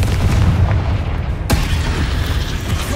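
Spell explosions such as Confringo and Bombarda from the PS5 game Hogwarts Legacy, a dense, continuous rumble of booms with a sharp blast about halfway through, loud and with no talk.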